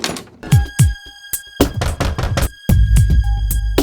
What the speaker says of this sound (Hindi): दरवाजा खटखटाओ